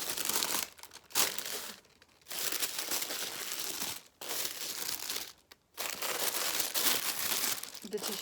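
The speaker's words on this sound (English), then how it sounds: "The tissue paper is like never ending." Tissue paper crinkling and rustling loudly up close while luxury items are unwrapped, continuous crumpling bursts with short pauses between handfuls.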